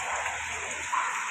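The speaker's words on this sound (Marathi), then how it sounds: "पाऊस पण तितका भरपूर लागतो" Heavy monsoon rain at Chiplun railway station in the Konkan region, a brief, steady hiss of downpour heard at moderate distance with no voices.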